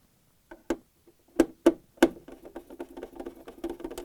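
A Phillips screwdriver turns a screw on an LG/Kenmore refrigerator shelf cover, giving a string of sharp, close clicks and taps that grow into quicker ratcheting ticks, with no talk.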